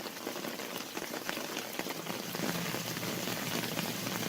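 A 220 volt, 1 horsepower Liberty sump pump runs in a double barrel sump pit, giving a steady, loud broadband wash of rushing, splashing water that continues without a break.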